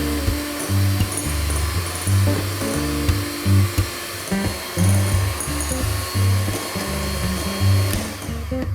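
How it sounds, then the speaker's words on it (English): An electric mixer whipping egg whites until foamy for a Black Forest cake, a whirring motor that pulses on and off in short bursts, close and steady in pitch. "beating egg whites until it becomes foamy"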